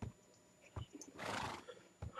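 A horse in the video game Minecraft neighs, a faint breathy whinny rising in the middle, with a few soft thuds around it.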